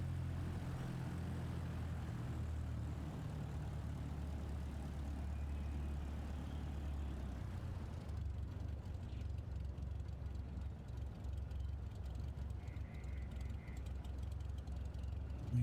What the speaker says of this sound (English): There we go, plane's moving now, so we'll taxi to the end of the runway.